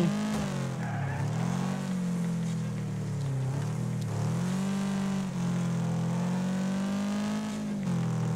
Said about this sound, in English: I just love the noise this thing makes when it hits the rev limiter.